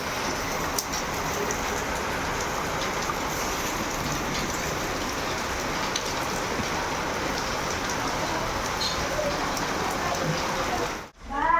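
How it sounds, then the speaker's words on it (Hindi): Heavy rain falls in a dense, steady roar throughout, loud and close, then cuts off abruptly at the very end. "वर्षा देखो के जोर है बहुत जोर है"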